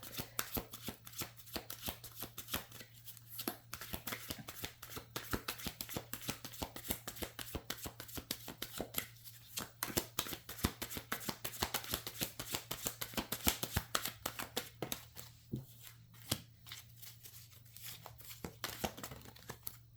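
A deck of cards is shuffled continuously at close range, producing a rapid, crisp riffling and fluttering that runs for the whole stretch with a low steady hum beneath.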